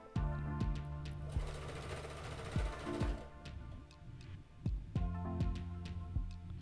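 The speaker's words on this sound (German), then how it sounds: "dann näht ihr drüber" Domestic sewing machine stitching a seam on a summer A-line midi dress, close and steady in stitching bursts with a pause midway and soft clicks as fabric is adjusted.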